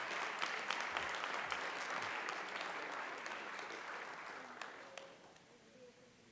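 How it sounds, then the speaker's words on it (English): A room full of people at a school board meeting held at Winter Springs High School gives a round of applause, dense clapping that slowly fades out over several seconds. "Give them a round of applause"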